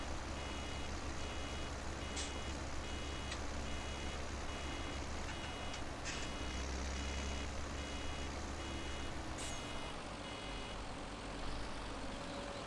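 Farm tractor reversing with intermittent electronic beeps over a steady low engine rumble, moderately loud and continuous without talk.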